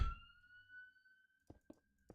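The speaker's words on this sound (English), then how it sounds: "that's a loud siren" A siren just outside, heard indoors as a steady, fairly faint high tone that holds and slowly fades, followed by a few sharp clicks close by.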